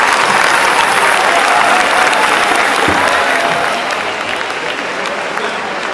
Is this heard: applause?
yes